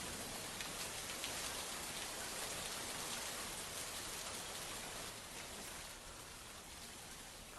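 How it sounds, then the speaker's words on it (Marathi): Heavy, steady rain pours down in Pune, a dense continuous hiss of drops hitting surfaces that stays loud throughout and eases only slightly toward the end, with no voices. "पुण्यात मध्यरात्रीपासूनच जोरदार पाऊस बरसतोय"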